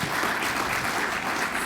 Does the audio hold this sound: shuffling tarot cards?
no